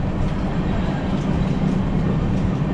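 A steady, loud rumble of a moving train fills the space, continuous low rattling and clatter with no clear breaks.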